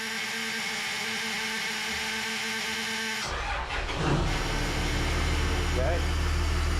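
Boat engines in an engine room crank and catch at about three seconds, then settle into a steady low idle that rumbles loudly to the end.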